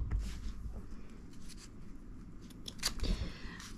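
Scissors snip through a paper flower embellishment in a brief close cut, a few crisp clicks and rustles of paper at a moderate level with no talking.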